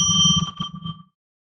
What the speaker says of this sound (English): I'm going to ring a bell 3 times to declare magical space